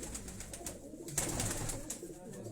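High-flying racing pigeons coo softly in a loft in Quetta, a few low repeated coos at moderate distance over faint background hiss.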